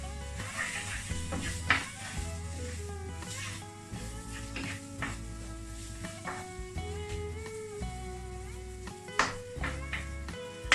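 Potatoes fry, sizzling and crackling in a hot pan under steady background music, with occasional clinks of utensils.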